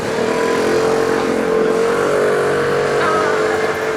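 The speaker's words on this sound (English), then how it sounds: "like that scooter that just drove off" Traffic noise on a street in Japan, with a scooter's engine pulling away loudly and steadily under a continuous wash of road sound, no talk over it.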